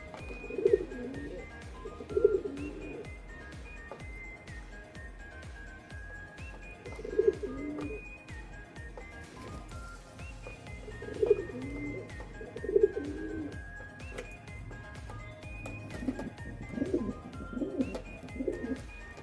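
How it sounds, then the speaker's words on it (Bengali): Siraji pigeons, the Lahore fancy breed in red, black and silver, coo in low repeated throaty phrases every few seconds, close by, with soft rustling between calls. "শৌখিন কবুতর হিসাবে সবাই সিরাজি কবুতর প্রথমে পালন করে"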